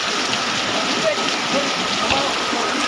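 Water rushing hard through a clogged street drainage during heavy rain, a loud continuous roaring wash with splashing, close by, with people talking over it.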